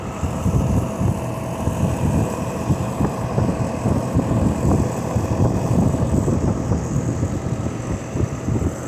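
A Rheem air conditioner runs in cool mode, its Emerson Copeland scroll compressor and Gentech fan motor on R410A refrigerant producing a steady, loud, broadband drone that holds even and unbroken throughout.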